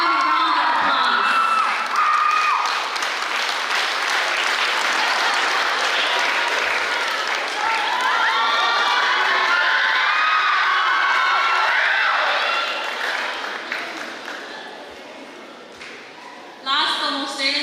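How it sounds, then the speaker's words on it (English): A crowd at a Catholic high school graduation in Pohnpei applauds and cheers for the graduates: loud, sustained clapping with whoops and shouts that fades gradually, then a short burst of noise at the end. "Let's give them a round of applause."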